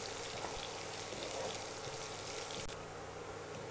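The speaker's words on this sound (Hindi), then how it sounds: "प्याज को हमको थोड़ा से ब्राउन होते तक से भुनना है।" Onions frying in a pan for aloo matar curry give a steady, close hissing sizzle with soft crackles, fading slightly toward the end, no talking.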